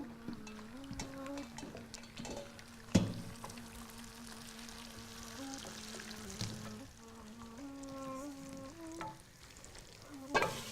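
Egg yolk and lemon juice are whisked together in a bowl, with soft, rapid clinking and swishing close by under a faint tonal background.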